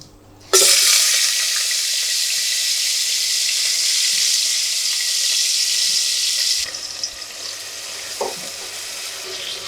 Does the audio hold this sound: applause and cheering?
no